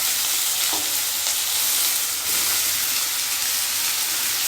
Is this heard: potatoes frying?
yes